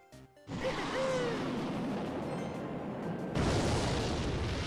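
A rocket spell explodes in a Clash Royale match, a loud booming crash that erupts suddenly and rumbles on as a sustained roar, swelling again near the end, with no talking over it.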